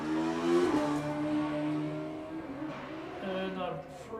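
Locust sprint car leaving the start line at a Caithness Car Club sprint in Golspie, its loud engine revving up through the gears with a brief tyre squeal, heard under a commentator's talk.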